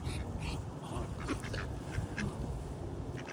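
Ducks, including a wood duck, quacking at an outdoor duck pond, with short calls scattered over a steady background of outdoor noise, moderately distant and fairly faint.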